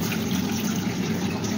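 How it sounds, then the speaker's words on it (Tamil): Water gushes steadily into a pot for cooking tapioca pearls, a loud, continuous close-up pour with a full, even rush and no pauses. "இப்போ ஒரு பாத்திரத்தில் நம்ம எந்த அளவுக்கு டோபியாக்கா பல்ஸ் எடுத்தோமோ அதே பாத்திரத்தில் 3 மடங்கு தண்ணி ஊற்றிக்க போகிறோம்"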